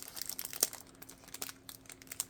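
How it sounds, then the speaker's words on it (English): Plastic bags crinkle and rustle in quick irregular bursts as resin keychains are pulled out of them, close and fairly quiet, with no talking. "let's take these out of the bags."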